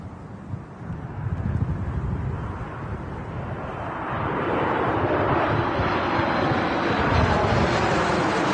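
Sun Express airliner arriving at Manchester Airport, a steady broadband jet roar that swells and holds loud and close, with gusty wind buffeting the microphone throughout.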